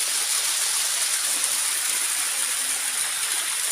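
A waterfall roars in a steady, dense, unbroken rush of falling water, loud and close, with no other sounds rising above it.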